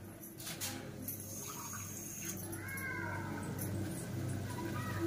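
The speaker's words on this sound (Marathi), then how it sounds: "थोडं पाणी मी ॲड करते." Water poured into a pot of rice kheer, a soft continuous close trickle and splash under a faint background hum, with no talking.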